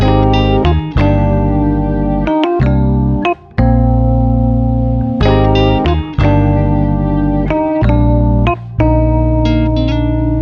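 A full band plays together, steady chords with bass, keys and drums, a loose jam feel with a couple of brief drop-outs and re-entries.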